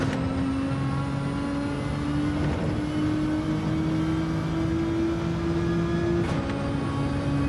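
Nissan GT-R engine in Gran Turismo 7 revving hard during a race, a steady loud droning whine with a slowly rising pitch held throughout, with no talking over it.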